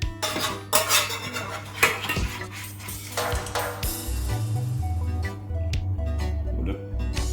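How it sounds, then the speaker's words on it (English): Mushrooms placed into a bowl for cod Mornay with mixed vegetables, with close clinks and scrapes of dishes and cutlery in irregular bursts over a steady low music bed. "So I'm going to put the mushroom at the bottom of the bowl."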